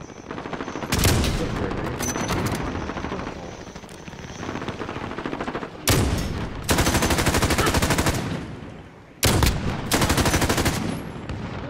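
Video game gunfire rings out in loud, dense bursts: a sustained volley early on, then two heavy rapid-fire stretches near the end, with rattling automatic shots close and harsh.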